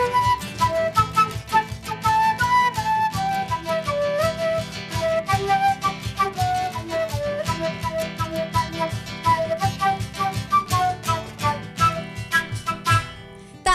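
Live band music, with steady percussion driving a bright melodic line and chords, moderately loud and continuous, with no talking over it.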